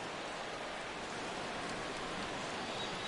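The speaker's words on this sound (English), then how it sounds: "the conditions aren't ideal with the rain coming down" Steady, dense rain falls throughout a White Sox at Reds baseball video game, a continuous even hiss with no talk over it.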